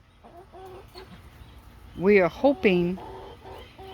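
A Rhode Island Red hen gives a few loud, nearby clucks and squawks, while a person speaks softly before and after.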